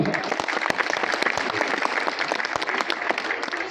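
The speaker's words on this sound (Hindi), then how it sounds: "आप लोग थोड़ा अपने मन के मंच पर पहले आमंत्रित करिए जोरदार तालियों से।" An audience at a science and art fair claps enthusiastically to welcome a speaker, a dense crackle of many hands with sharp individual claps standing out, moderately distant and continuous.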